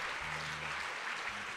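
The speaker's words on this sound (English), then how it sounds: "So give our men a round of applause." A church congregation applauds the men on Father's Day, a steady dense patter of clapping with low organ-like tones sustained beneath it.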